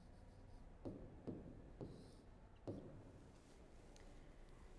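Chalk or marker strokes on a board during an electronics lesson on Karnaugh maps, a few soft scratchy taps and short rubs spaced about a second apart in a quiet room.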